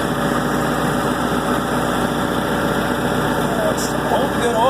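A MEP-802a military diesel generator runs steadily at close range, a loud, even engine drone with a constant hum and vibration that never changes pace.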